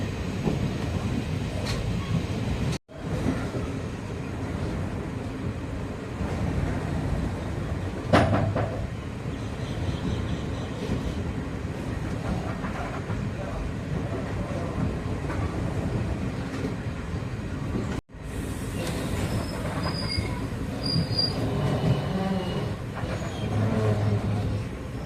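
Passenger train running from Tiruchendur to Mannargudi rumbles steadily and loudly up close, with rail clatter and wheel noise throughout and two brief sharp dropouts.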